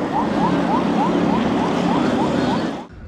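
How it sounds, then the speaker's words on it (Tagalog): A loud siren blares from China Coast Guard vessel 5303 at sea, fast repeating rising whoops in a steady rhythm over a dense roar, then cuts off abruptly. "binasag ang katahimikan ng malakas na tunog ng sirena mula sa CCG vessel"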